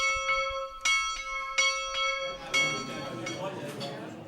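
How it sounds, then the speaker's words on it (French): A bell rung to announce breakfast at Cerisy gives several clear, ringing strikes with long resonant tails, followed by a wash of room noise and voices. "À Cerisy, tout fonctionne à la cloche. Celle-ci annonce le petit déjeuner."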